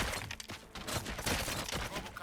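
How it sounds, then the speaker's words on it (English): Gunfire from the video game RoboCop: Rogue City, dense bursts of shots crackling continuously over a loud, cluttered game mix with a voice partly mixed in. "Gunshots? What's going on?"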